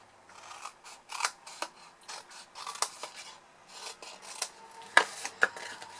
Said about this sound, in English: we're just going to cut our wedges out of the tabs